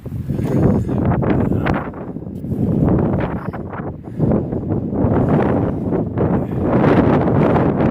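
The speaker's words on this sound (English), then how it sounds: "It is windy." Strong wind on the Appalachian Trail in March gusting hard against the microphone, a loud rumbling roar that surges and eases in waves, with no voices.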